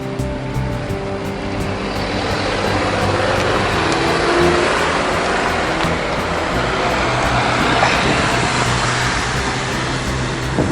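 Cars rush past cyclists on a country road in the Yorkshire Dales, a steady loud roar of engines and tyres mixed with heavy wind buffeting, with no speech.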